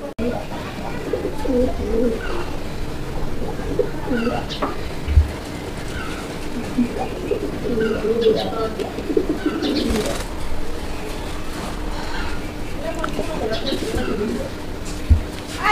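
Raj Golla pigeons coo repeatedly in a loft, low burbling calls overlapping at close range with scattered chirps and a few sharp knocks in between, steady and continuous throughout.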